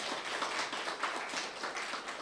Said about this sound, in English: let's give a round of applause to our presenter